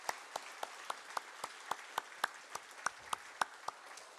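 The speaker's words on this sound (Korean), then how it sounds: "우리 뜨거운 박수로 맞이하겠습니다" A single person claps in a slow, even rhythm at a Friday church service where a pastor is being welcomed, about fifteen distinct close claps with no talking.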